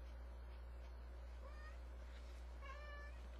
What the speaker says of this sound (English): That is my cat, Mr. Bentley.